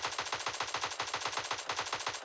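Sustained automatic gunfire from a weapon in the mobile battle royale game PUBG Mobile Lite, a rapid, steady burst of evenly spaced shots lasting a couple of seconds, loud and unaccompanied by talk.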